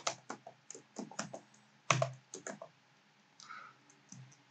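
Quick bursts of computer keyboard typing as a short phrase is entered, crisp close clicks in uneven clusters with brief pauses between, quiet and alone.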